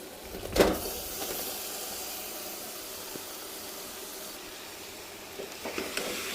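Mutton cooks in a pressure cooker with a low, steady sizzle and faint hiss, opening with a sharp clank as the meat goes in and ending with a few soft stirring knocks.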